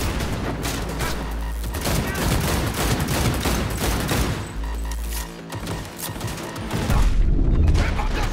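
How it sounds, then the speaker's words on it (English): Gunfire and explosions in the video game Cyberpunk 2077: dense, loud bursts of rapid shots and booming blasts fill the whole stretch, a grenade blast among them, with a heavy low rumble throughout. "Oh shit, grenade."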